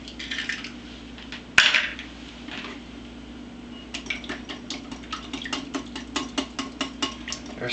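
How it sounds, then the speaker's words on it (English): An egg cracks sharply against a hard edge in a kitchen, followed by a run of light, rhythmic clicks and taps as the shell and utensils are handled near a sink. "there's something satisfying about cracking an egg and then throwing it into the sink"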